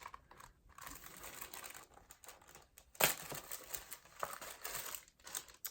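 Crinkly plastic packaging of a thread and fabric kit being handled and opened, a steady close crackle of rustling with a sharper crinkle burst midway and continuing soft crumpling.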